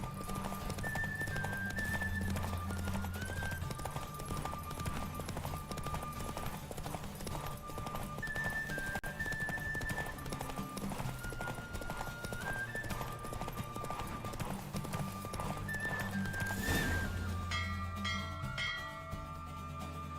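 Rapid, steady hoofbeats of a galloping horse in a horse race in The Witcher 3: Wild Hunt run continuously over a looping melody, with a whinny near the end.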